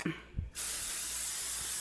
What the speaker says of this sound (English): We're going to spray it a little bit,